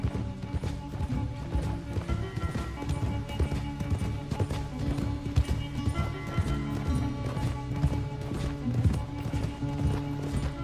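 Steady rhythmic hoofbeats of a galloping horse in Red Dead Redemption 2 run throughout, dense and fairly loud, layered with a busy game soundtrack.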